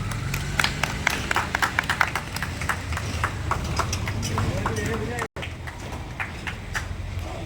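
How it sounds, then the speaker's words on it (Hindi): Scattered, uneven audience clapping rises at an Independence Day gathering, with individual claps popping out over a busy background of talking voices. "तालियां।"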